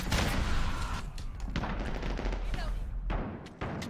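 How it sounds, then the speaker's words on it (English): A grenade blast and its heavy rumble burst through Call of Duty combat, with loud sharp bursts at irregular moments over dense, continuous gunfire and low battlefield noise. "Oh god, grenade!"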